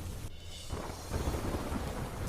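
Heavy rain with thunder in Dang district, a dense wash of rainfall under a deep, rolling rumble that swells louder midway, with no voices.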